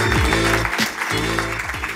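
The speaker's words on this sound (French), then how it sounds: "Vous pouvez l'encourager et l'applaudir." Conference audience clapping to welcome a speaker on stage, the applause layered under loud rhythmic bass-heavy walk-on music.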